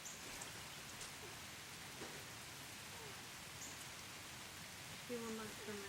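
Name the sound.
rain falling outside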